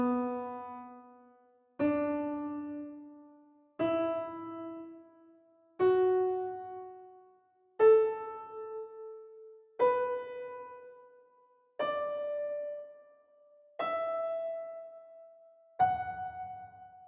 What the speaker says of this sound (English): On the piano, the scale sounds like this.